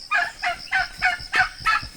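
Close poultry calls on a farm, six rhythmic honking clucks in quick, evenly spaced succession, loud and clear with little background noise.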